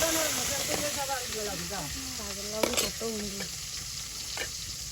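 Small river shrimp hit hot oil in a home village kitchen, giving a steady loud sizzle and hiss while a voice talks over the frying.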